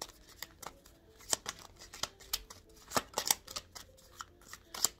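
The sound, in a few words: shuffling tarot cards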